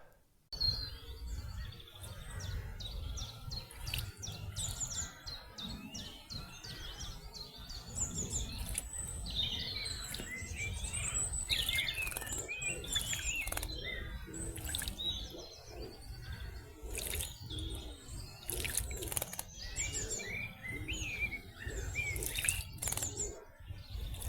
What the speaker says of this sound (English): we are now going to a robin in a bird bath